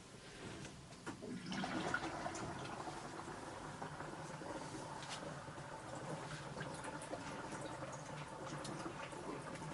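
Faint, steady rushing and gurgling of house water backwashing through a well sediment filter into a pressure tank, with a brief louder surge near the start, then a continuous low hiss.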